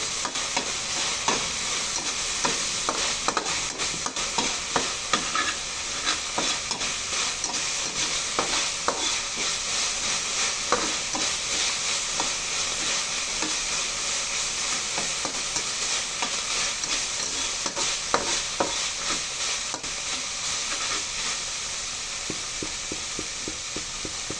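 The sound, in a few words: stirring misua noodles with ground pork in a frying pan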